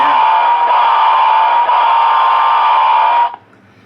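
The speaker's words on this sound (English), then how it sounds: "here is the Sound Blast horn" A Williams Baldwin Shark model train locomotive sounds its Sound Blast horn in one loud, steady, unbroken blast of about three seconds, then cuts off abruptly into near silence.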